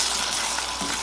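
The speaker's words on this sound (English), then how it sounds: "She's going to start sizzling because that alcohol is going to burn off." Bourbon sizzles in a hot pan as its alcohol cooks off for a honey bourbon glaze, a brief, steady, close crackling hiss with no talking.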